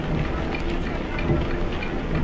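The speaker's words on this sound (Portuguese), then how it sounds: "Olha quem chegou. Ela, ela mesma. Chuva." Steady rain pours down loudly and close, a dense continuous hiss on a surface, with a low rumble beneath and no talk.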